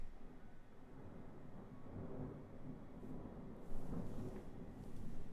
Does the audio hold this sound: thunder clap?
yes